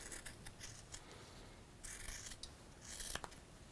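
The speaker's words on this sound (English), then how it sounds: "I'm going to trim around approximately 1/4 inch" Scissors trimming around the edge of sewn fabric about a quarter inch from the seam, a series of quiet close snipping cuts in quick succession, with no talking.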